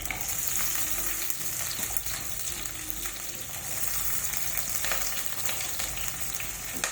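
Green chillies and onion fry in oil for a tomato curry, making a continuous, close hiss and crackle with soft stirring scrapes and no voices.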